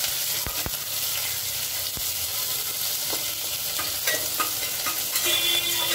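Onion frying with spices in a pan for dalia crackles and sizzles up close, with a few sharp spoon taps early on and scraping stirs toward the end.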